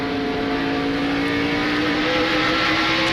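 Rusty Wallace's NASCAR race car running in the 2001 Sharpie 500 at Bristol, heard as a loud, steady engine drone with a constant pitch and no gaps throughout.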